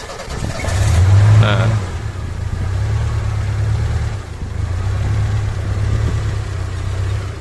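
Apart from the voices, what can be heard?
Suzuki Zebra/Espass car engine starting and idling with JCK TCI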